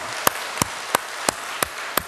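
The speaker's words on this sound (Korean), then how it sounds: "박수하겠습니다." A church congregation claps in unison during a Sunday worship service, giving sharp, evenly spaced claps about three per second over a soft background wash.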